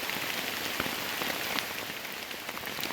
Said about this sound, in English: I guess I got to wait till the rain lets up a little bit